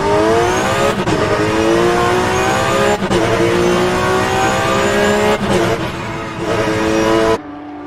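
Porsche Supercup race cars leave the pits at Yas Marina Circuit, engines rising and dipping in pitch as the throttle hesitates, loud and close with brief cuts between surges.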